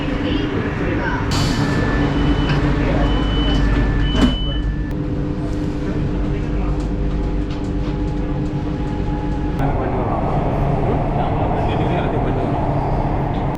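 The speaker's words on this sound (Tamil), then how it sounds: "அடுத்ததா ட்ரெயின் இப்போ நிற்கிறது தாங்க நேரு பூங்கா மெட்ரோ ஸ்டேஷன்" A metro train rumbles steadily and slows into Nehru Park station in Chennai, with a brief high squeal and tonal hums as it settles; a constant mechanical drone fills the background.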